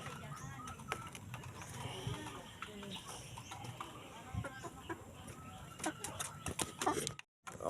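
Three-month-old cockerels cluck and peck while being fed, with scattered soft calls and scratching sounds nearby, a quiet background over the whole stretch.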